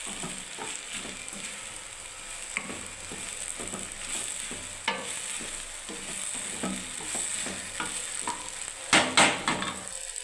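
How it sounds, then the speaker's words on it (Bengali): Okra with mustard-poppy paste being stirred in a pan over a gas flame: repeated scraping strokes in an irregular rhythm over a constant low sizzle, with a louder clattering burst near the end and no talking. "এবার আমি আবার নাড়তে থাকবো"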